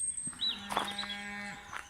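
Cattle mooing at a distance on a farm in early morning, one long low moo drawn out across the clip with birdsong chirping over it, no talking.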